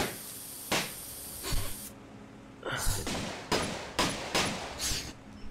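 Gunfire in the VR game Balloon Chair Death Match: a series of sharp, loud shots in an irregular rhythm, several spaced bursts following a couple of earlier isolated cracks.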